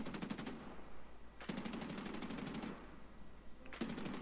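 Aircraft machine guns firing in the War Thunder video game, in three long rapid-fire bursts with brief gaps between them, loud over steady engine drone.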